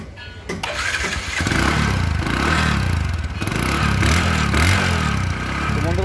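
A second-hand Discover 100cc motorcycle starts with a brief mechanical clatter, then its engine catches and settles into a loud, steady, close-up idle.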